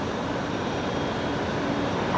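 Heavy Airbus A330 departing Brisbane Airport, a continuous dense jet engine roar, loud and unbroken for a couple of seconds.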